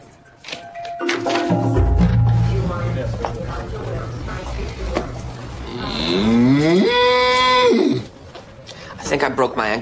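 A spotted cow moos loudly and close, a long drawn bellow with a rising then steady tone, following and followed by talk and some thumping noises.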